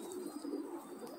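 Racing pigeons in a loft give a soft, low throaty coo that rolls on without pause for about a second, faint and close.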